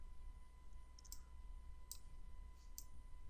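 A computer mouse clicks three times at slow, uneven intervals while designing in Adobe Illustrator. The crisp, quiet clicks sit over a faint steady electrical hum in a still room.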